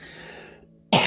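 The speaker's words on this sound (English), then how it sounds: "Sorry if I cough." A single short, sharp cough bursts out near the end, after a stretch of quiet room tone with no talking.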